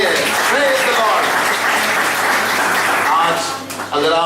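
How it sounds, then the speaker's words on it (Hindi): Congregation clapping in praise at a Hindi church worship service, sustained applause filling the room with voices and shouts over it. "ताली बजा के प्रभु के लिए, प्रेज द लॉर्ड।"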